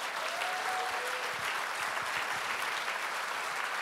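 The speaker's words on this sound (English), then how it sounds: "A huge round of applause for our founder, Monty Lundy." Audience at a summit held at the Jameson Distillery Bow St. in Dublin breaks into sustained, dense applause, a steady wash of clapping from a large crowd heard at moderate distance.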